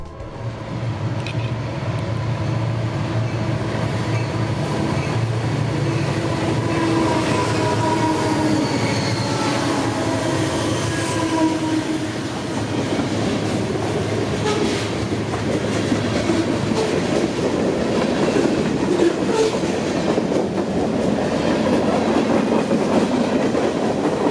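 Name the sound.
train rolling in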